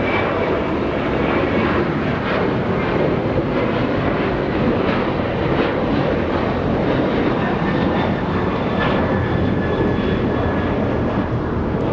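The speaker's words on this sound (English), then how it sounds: "The next departure. This one flying to Puerto Vallarta, a 737-900." An Alaska Airlines Boeing 737-900 bound for Puerto Vallarta departs Los Angeles International Airport, its jet engines roaring loud and steady throughout with a broad, sustained rumble and whine.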